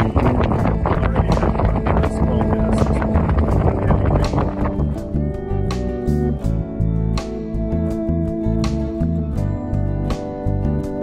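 Near-gale wind buffets a microphone by the water around the Ragged Islands, a loud, continuous roaring rumble with heavy low-end buffeting and rattling clicks over it.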